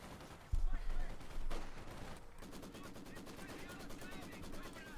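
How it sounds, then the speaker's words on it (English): Assault rifle fire in the Company of Heroes 2 strategy game, rapid repeating shots following a couple of heavier blasts, mixed under battle noise and a commentator's talk. "closing them down with the assault rifle fire"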